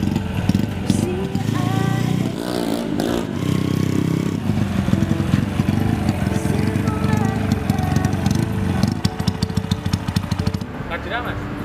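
A motorcycle starts off and pulls away nearby, its loud engine revving and clattering continuously throughout without letup.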